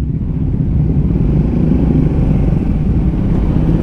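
A Triumph Speed 400 motorcycle rides along in second gear, its engine a loud, steady low rumble with slight throttle fluctuations, heard close up from the rider's position.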